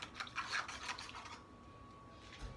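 Seasoning mix for homemade croutons being stirred in a bowl, half a teaspoon of black pepper among the spices, giving quiet, close scraping and rubbing strokes in a quick rhythm that fade out after about a second and a half.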